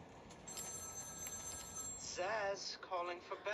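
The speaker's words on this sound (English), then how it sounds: "So I'm locating a ringing phone." A phone rings in a Batman video game, faint electronic trills repeating in short bursts against a low hum, growing clearer toward the end with no talk over it.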